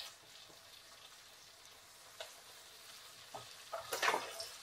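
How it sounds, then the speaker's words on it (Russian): Sausage fries in a pan, giving a quiet, steady sizzle with soft crackles that grow denser and louder toward the end as the pieces are stirred. "Так, сильно не надо у них жарить. Так, теперь добавляем колбаску."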